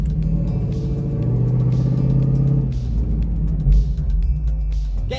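Turbocharged Lexus LS400 under hard acceleration, a deep rumbling engine drone heard from inside the car, steady and loud with a slight rise before easing off near the end; no talking.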